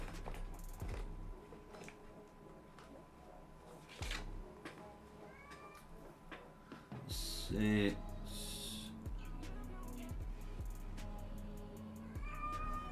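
A cat meows quietly indoors, a couple of short faint calls near the middle amid low room noise, small mechanical clicks and a person speaking briefly nearby.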